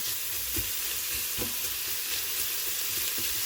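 Jackfruit pieces fry in plenty of oil with a little ghee, a loud, steady close-up sizzle with occasional low knocks of stirring underneath.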